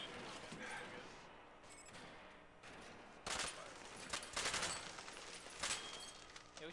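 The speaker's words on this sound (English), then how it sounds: "You shoot from behind cover and toss grenades at the targets." Shooter game Army of Two gunfire and grenade explosions, scattered bursts and sharp blasts over a low background, growing denser toward the end.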